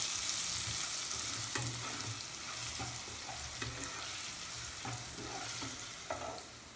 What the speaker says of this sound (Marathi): हे चांगलं ढवळून घ्यायचं आहे